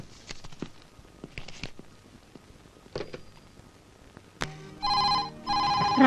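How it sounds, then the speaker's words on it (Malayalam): A telephone rings twice in loud, steady bursts near the end, after a stretch of quiet room noise with scattered light taps and shuffles, in an old Malayalam comedy film scene. "ഫോൺ എടുക്ക"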